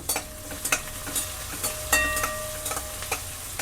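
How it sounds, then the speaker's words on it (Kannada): Onion fries steadily in a pan with a soft crackle, broken by a few sharp clinks and scrapes of stirring. "ಇದು ಸ್ವಲ್ಪ ಚೆನ್ನಾಗಿ ಫ್ರೈ ಆಗಬೇಕು"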